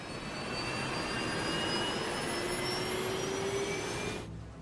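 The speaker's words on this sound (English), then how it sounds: "Jet engines contain turbines that make different sounds depending how quickly they're spinning." Jet engine turbines of an airliner spin with a steady loud roar and rising whine tones, continuous for about four seconds before cutting off abruptly.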